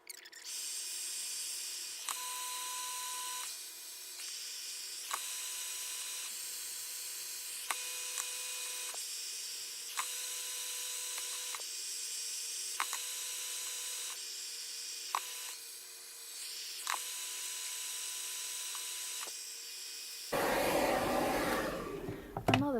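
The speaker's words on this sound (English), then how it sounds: "I'm just gonna concentrate on drying my hair now." A hair dryer blow-drying straightened hair whirs steadily with a high whine that shifts in pitch now and then as the airflow is moved, followed by a louder rough gust of air near the end.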